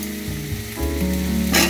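Chopped tomato drops into hot oil and fried spice paste in a pan for a vegetarian jackfruit curry, a loud close sizzle that surges and crackles as it is stirred.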